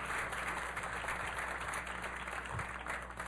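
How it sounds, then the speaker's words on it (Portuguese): Audience at a philosophy café talk on ethics and food gives a round of applause for guest speaker Peter Singer, dense steady clapping from a crowd in a hall, lasting the whole few seconds without voices. "A round of applause,"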